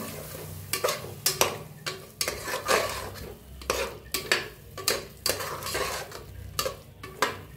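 A spatula stirs and mixes a spicy North Karnataka brinjal masala in a pan, giving regular scraping strokes against the metal over a soft sizzle, close and unaccompanied by speech.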